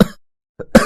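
A man in a cartoon story coughs harshly, one rough burst, a brief pause, then two more hacking coughs, close and dry.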